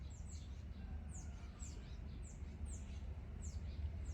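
Several small birds chirp and squabble in the trees around a campsite, repeated sharp high calls at a distance over a low steady background rumble.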